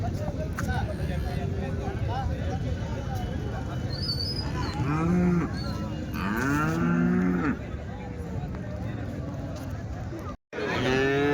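Cattle moo several times, long and low, over a steady bustle of crowd chatter and background noise at a weekly Sunday cattle market in Chintamani.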